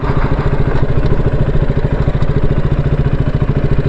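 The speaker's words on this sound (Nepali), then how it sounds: "अब एउटा बाइक रहेछ" A motorcycle engine runs close by on a road near Bardiya National Park in Nepal, a steady, loud mid-pitched chugging with rapid, even firing pulses and a clattery edge throughout.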